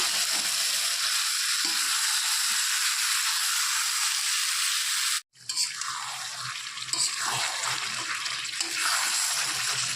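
Chicken cooking in a covered pan over a low gas flame gives a loud, steady frying hiss and sizzle, close up; it cuts off briefly midway, then resumes slightly duller.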